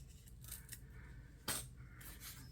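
Scissors trimming a collaged paper sticker tag: faint, quiet snips and rustling paper, with one sharper cut standing out midway against a low background hum.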